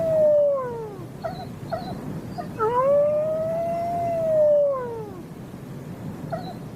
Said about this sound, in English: The famous wolf howl is just one of the ways in which wolves warn or greet each other.